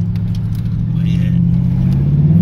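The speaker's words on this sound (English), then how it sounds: "Y'all hear that power? That V8, boy." Steady low rumble of a V8 car engine heard from inside the car on a hot day, a constant close drone rather than sharp revs, with a voice talking over it.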